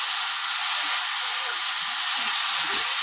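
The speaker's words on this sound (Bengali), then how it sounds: "এবার মাছগুলো দিয়েও আমি ভালো করে ভেজে নেব" Puti fish frying with tomato in a covered pan, a dense, steady hiss of sizzling oil and steam holding evenly throughout, close and loud, with no voices.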